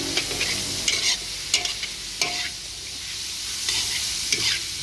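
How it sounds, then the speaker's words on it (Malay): Red and green chilies with cabbage stir-fried for fried rice vermicelli, a steady wet sizzle with repeated scraping clanks of a spatula against the wok, close and loud, with no talking. "Kacau-kacau dulu"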